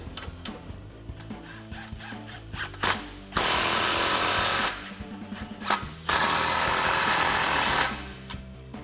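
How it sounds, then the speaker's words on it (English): A power tool with a 15mm socket tightening exhaust clamps on a 2024-2025 Mustang GT Pypes X-Bomb cat-back system, with metallic rattling and clicks, then two long, loud, harsh whirring bursts up close. "grab a 15mm socket and tighten those down"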